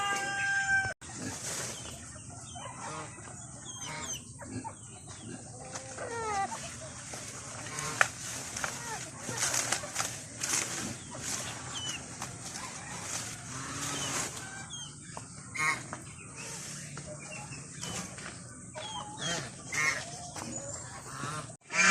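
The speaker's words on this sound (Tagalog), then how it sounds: "So ayan yung mga native chicken natin guys." Free-range native chickens cluck and call busily while feeding on banana leaves, with honking squawks and overlapping bird voices close by, and someone speaking intermittently over the flock.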